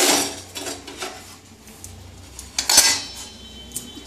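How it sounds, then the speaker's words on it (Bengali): A lid clinks onto a metal pot of simmering whole pulses and peas, with scattered close metallic taps and a sharper rattle near the end, no talking. "খানিকক্ষণ আবার ঢাকা দিয়ে রেখে দিচ্ছি"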